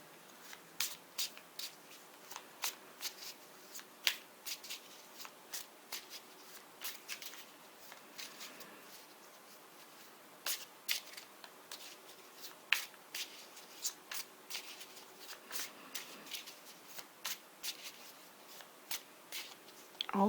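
Tarot cards being shuffled by hand during a reading: soft, close riffles and flicks come in irregular bursts over a quiet room, with no talk.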